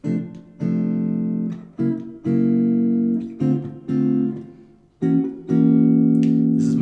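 Sustained jazz piano chord voicings ring out one after another, each struck and held, with brief pauses between them, close and fairly loud.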